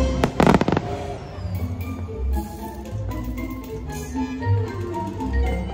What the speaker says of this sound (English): I love how they put the lights coming out of the castle and then the fireworks coming out